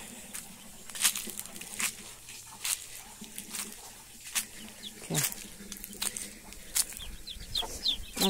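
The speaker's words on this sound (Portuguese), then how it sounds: "Aqui está os pintinhos." Chicks and chickens on a farm cluck and peep close by in scattered, irregular bursts, with occasional sharper squawks and brief wing flutters.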